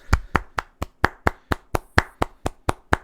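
Single person clapping hands in a steady, evenly spaced rhythm, about a dozen crisp, close claps with short gaps between them and nothing else around them.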